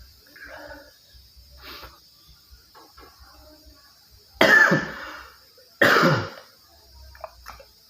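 Two harsh, loud coughs from a person sick with flu, each a sudden burst followed by a trailing rasp, separated by quiet breathing and faint murmurs.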